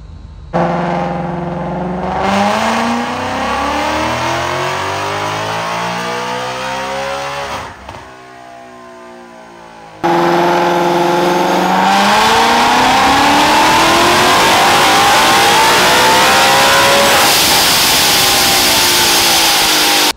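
A supercharged 2020 Ford Mustang GT with an ESS G3r supercharger and about 15 pounds of boost roars on a dyno, rising through two long, loud full-throttle pulls with a brief drop-off between them.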